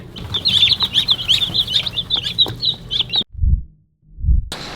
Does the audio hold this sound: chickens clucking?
yes